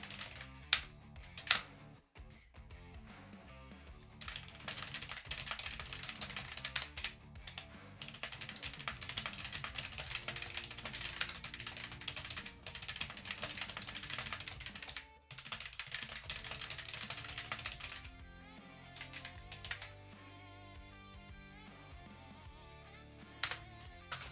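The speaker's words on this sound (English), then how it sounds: "is my keyboard coming through?" Continuous rapid clatter of computer keyboard keys during an Overwatch esports broadcast, fairly close and steady with brief pauses, no talking over it.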